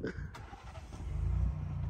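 A Ford Bronco First Edition engine starts in snowy weather, with a brief cranking burst at the start that settles into a quiet, rising idle rumble.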